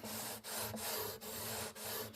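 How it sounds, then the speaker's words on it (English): A sanding beam rubs back and forth along guitar fret wire to level the frets, giving a steady close rasp in strokes of about half a second with brief pauses between them. "get the old sanding beam out here, okay, and we're just going to start taking some of this down"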